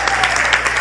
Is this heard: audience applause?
yes